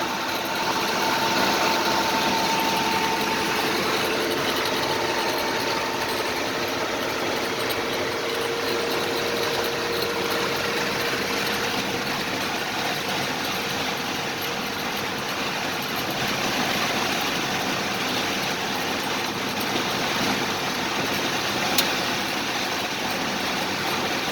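A 1941 Dodge WC truck's engine drones steadily through a ride out to a lake, a loud, continuous cabin rumble with road vibration and little change in pitch throughout, with no talking.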